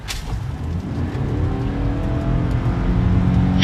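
A 2025 Ford Maverick with the 2.0L turbo engine and continuously variable transmission accelerates hard, its steady engine drone building in loudness and holding strong throughout, close and alone without talk.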